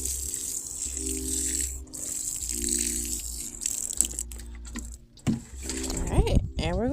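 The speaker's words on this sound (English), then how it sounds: "we're gonna water it with some rainwater." Rainwater poured over newly planted flowers, a light trickle and splash that starts and stops between spoken remarks and low background hum.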